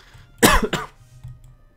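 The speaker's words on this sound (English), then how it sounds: "Stop coughing all the time." A single sharp cough, close up, followed by a quieter second burst, then near silence.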